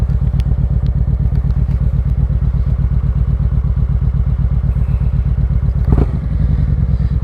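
A low-seated touring motorcycle is ridden at a steady pace, its engine a loud, close, rhythmic pulsing thrum with a brief clatter near the end, and no talking.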